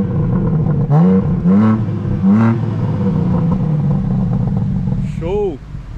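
A BMW M3 Competition revs hard in repeated rising bursts at night in João Pessoa, loud and close, with a final quick blip at the end and a voice talking in between.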